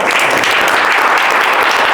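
An audience at a startup talk gives a speaker a big round of applause, loud, dense and continuous clapping from many people with no voices over it.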